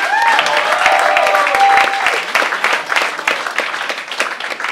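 Comedy club audience applauding and cheering for comedian Rich Carucci at a live stand-up show, a loud dense burst of clapping with crowd voices and a few whoops, gradually thinning toward the end.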